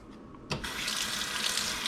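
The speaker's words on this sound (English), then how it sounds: "let's give it a rinse, see if we can't rinse it out." A kitchen tap gushes into a sink to rinse a part of a Vicks humidifier. Silence breaks abruptly as the stream starts, then a strong, steady splashing rush continues up close with no talking.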